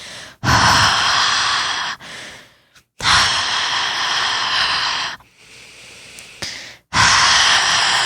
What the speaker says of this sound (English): I'm getting these creepy phone calls where you only hear slow breathing